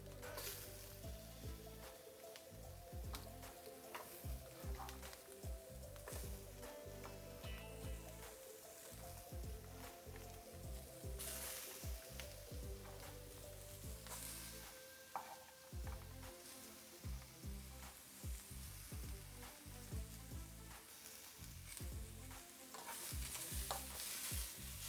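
Vegetables and onions being stirred into browning sausages in a hot pan, a steady crackling sizzle with repeated scraping and stirring strokes throughout, close and fairly quiet.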